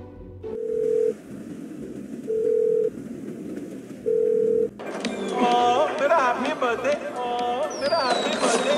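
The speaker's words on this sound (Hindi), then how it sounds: "तो इन नंबर पे कॉल करते हैं" Phone dialing in the video game GTA 5: three evenly spaced dial-tone beeps, then a burst of dense in-game sound with shifting electronic tones.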